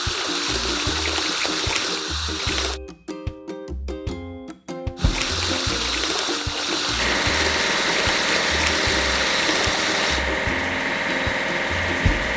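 Water runs steadily while a car is washed at a toy-like construction and cleaning scene, a continuous hiss with a mechanical engine hum beneath, interrupted by a brief quieter gap before resuming loudly.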